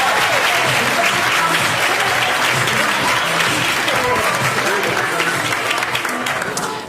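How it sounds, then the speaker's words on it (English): Loud, sustained applause from a comedy showcase audience at Ventura Harbor welcoming comedian Tyler Boeh to the stage, dense clapping with crowd noise holding steady before tapering at the end. "Clap your hands, let him hear you."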